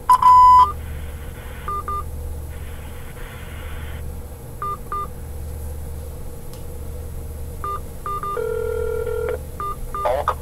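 Touch-tone keypad presses on an automated phone line: several short paired tones in clusters and a longer sustained beep, over a low steady hum.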